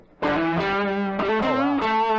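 A distorted, amp-like instrument tone through a SansAmp amp-simulation pedal rings out in sustained harmonic-rich notes, with a brief spoken word at the start.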